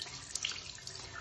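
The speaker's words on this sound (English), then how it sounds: "All I'm going to do now is wash off the dust" Water runs from a tap in a soft, continuous hiss and splash as dust is washed off interior trim parts of a 1989 Ford Capri, quiet and close.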